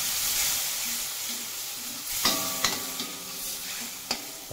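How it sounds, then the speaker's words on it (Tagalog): Soy sauce poured into octopus adobo frying in a pan, giving a steady close sizzle and hiss with stirring and a few sharp clinks of a utensil against the pan. "Lagyan na natin ng toyo guys."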